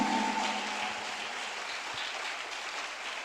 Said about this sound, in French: Oh, give the Lord a big clap